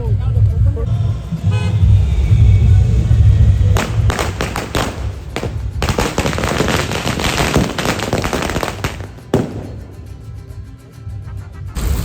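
Loud crackling bursts of firecrackers go off in quick succession amid steady rain at a Ganpati arrival celebration, with voices talking and shouting nearby.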